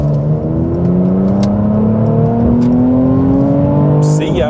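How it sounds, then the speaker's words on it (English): A 400hp Mercedes-AMG C43 accelerates hard out of a roundabout, its engine note climbing steadily in a loud, sustained rising drone heard from inside the car, with a few faint clicks near the end. "coming out of the roundabout and flooring it is always fun"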